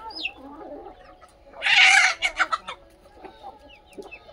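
Aseel rooster at a desi poultry farm crowing once, loud and near with a harsh strained call, followed by a few short clucks against quiet background.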